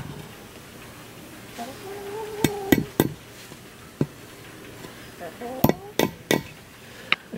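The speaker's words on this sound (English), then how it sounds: "when you're doing this with hock skins, it pays to put in quite a few nails" Nails are hammered in to stretch deer hock skins, heard as a few sharp, close metallic taps in small clusters against a quiet background with occasional faint speech.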